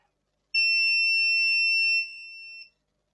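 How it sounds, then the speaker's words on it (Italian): A multimeter sounds a steady, piercing continuity beep during testing on a Nintendo Switch, one sustained tone of about two seconds that drops in level before cutting off, with no talk. "devo togliere il bip allora"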